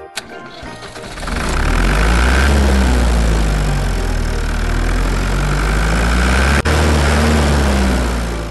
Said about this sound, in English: Tractor with loader.